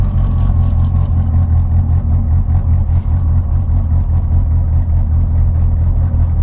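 The 9-liter twin-turbo Viper "Kratos" street car idles and revs with a loud, deep, throbbing rumble. It holds steady and close for the whole stretch, with no talk over it.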